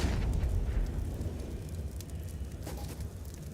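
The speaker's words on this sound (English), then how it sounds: "Walco with Galil to get the grenades out." Grenades blast during a Counter-Strike esports match at ESL Challenger Melbourne 2023, with a loud booming explosion at the start that rumbles and decays over several seconds, a second burst coming near the end.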